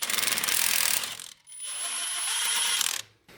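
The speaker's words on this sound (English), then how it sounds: "we've got an 18mm on the impact on the one side of the knuckle" An impact wrench zips an 18mm nut off a car's steering knuckle during a Mk7 Golf Sportwagen strut removal, two loud, close whirring bursts separated by a brief pause, with a high whine in the second.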